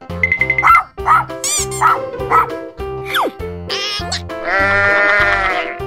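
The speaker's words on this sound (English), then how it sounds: "Sheep." Cartoonish sheep bleats from a children's animal toy, a run of short repeated bleating calls with dog-like yips mixed in over a steady backing tune, loud and close.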